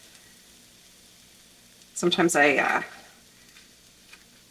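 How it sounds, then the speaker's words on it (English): Onions fry in oil in a pan, a soft steady sizzle sitting low and constant beneath a brief spoken word. "there's the fried onions, and I'm going to put, actually that looks like it needs a little bit more oil"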